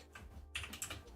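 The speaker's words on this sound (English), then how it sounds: "clicking too many buttons" Quick keyboard typing and button clicks while modelling in Blender, a short run of close, crisp taps and presses.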